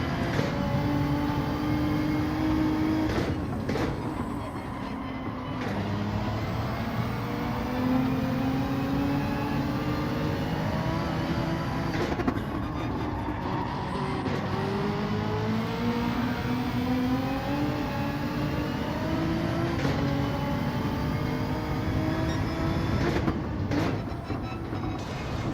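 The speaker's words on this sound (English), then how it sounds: "Ferrari's so good on the acceleration." A Ferrari Gr.3 race car accelerating at Trial Mountain in Gran Turismo 7, a steady engine roar with rising and falling pitch as it works up through the gears, broken by short gaps at gear shifts, sustained and fairly loud throughout.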